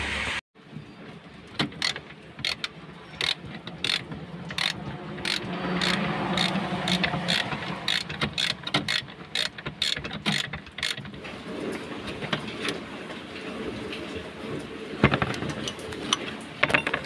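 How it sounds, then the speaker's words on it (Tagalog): A tool works a screw loose under the brake pedal of a Suzuki Multicab in a rapid, steady series of metallic ratchet clicks lasting several seconds, followed by quieter mechanical rattling and handling close by. "luwagan na natin itong tornilyo sa baba"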